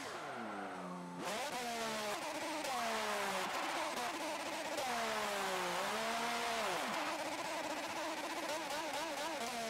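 A Renault Formula 1 car's engine in Forza Motorsport 7 screams loudly at high revs, climbing and dropping in pitch through repeated gear changes and sustained wails with no talk.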